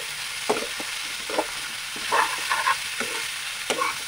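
Chopped banana flower sizzles softly in a pan while a spatula scrapes and stirs it in short, repeated strokes.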